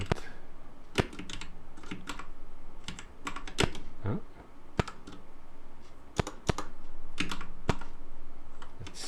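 Computer keyboard typing in a recording studio, with brisk bursts of key clicks and a few sharper, louder keystrokes spread across the stretch, fairly close and with no talking.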